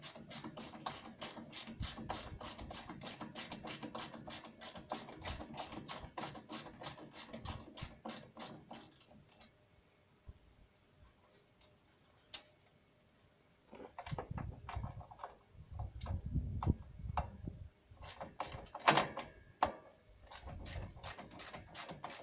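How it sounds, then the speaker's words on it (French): An 11 mm ratchet wrench works grille bolts loose on a Rolls-Royce Silver Spirit/Spur, with rapid close ratcheting clicks for several seconds. A near-silent pause follows, then more clicking and handling noises. "Pour enlever les boulons, on va utiliser une clé de 11."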